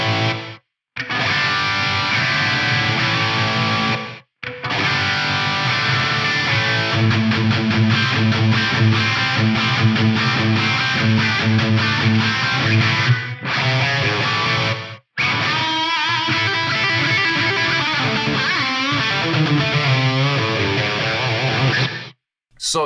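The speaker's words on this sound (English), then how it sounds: "Let's try the gated reverb at stock settings" Gated reverb at stock settings on an Axe Fx III guitar processor, heard on a loud, distorted electric guitar playing dense chords and riffs, with abrupt cutoffs and short silent gaps between phrases.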